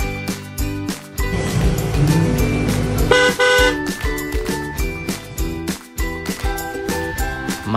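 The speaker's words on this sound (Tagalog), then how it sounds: "susubukan natin itong paandarin para makita natin ang tunay na tunog ng bagong busina natin" A new PIAA horn fitted to a 2024 Bristol Kove 450rr motorcycle honks loudly and close in several bursts, a bright blaring tone with short repeated toots.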